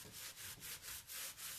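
Annie Sloan wax rubbed over a painted dresser to seal it, a soft rhythmic cloth-on-wood rubbing in close, even strokes, about six passes, quiet and alone.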